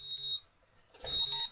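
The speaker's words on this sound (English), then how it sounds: "Beep, beep." Electronic beeps from the Katawa Shoujo visual novel video game come in two short pairs of bright tones separated by a brief pause, fairly quiet and clean, with no talking.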